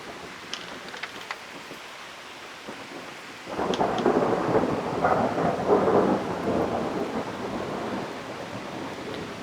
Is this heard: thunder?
yes